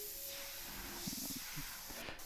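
An Omni 3000 airbrush sprays paint onto a T-shirt with a steady, soft, continuous hiss, broken by a few faint clicks and handling noises.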